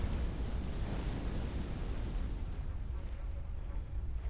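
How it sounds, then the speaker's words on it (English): Cannon fire in the Elden Ring video game gives a heavy, rumbling boom that rolls on as a dense, low roar throughout, fairly quiet overall and without speech. "I've never seen him actually shoot the cannon before."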